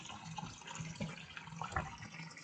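Water trickles and splashes steadily into an F&E tank as it refills through a ball valve that has just been reopened, a faint, continuous rushing and burbling heard alone.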